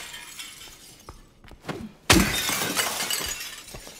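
Glass and objects smashed in the Silent Hill 2 Remake video game: a few faint knocks, then a sudden loud shattering crash followed by tinkling, scattering debris.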